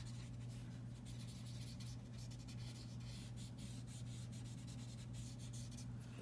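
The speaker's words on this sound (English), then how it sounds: "You want to tilt your pencil to the side and sort of shade." A pencil tilted on its side shades across paper in soft, quiet rubbing strokes, faint and continuous over a steady low background hum.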